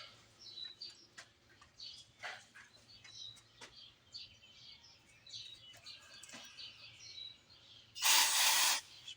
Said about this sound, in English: Spray them out a little bit.